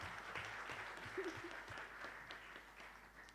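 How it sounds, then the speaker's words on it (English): Faint audience applause at an investment conference in Kampala, scattered clapping from a distant crowd that holds steady for a few seconds. "A hand of applause."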